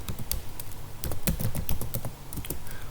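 Rapid, uneven keystrokes on a computer keyboard as a command is typed into a Kali Linux terminal, close and fairly clear, with a few brief pauses between bursts of clicks.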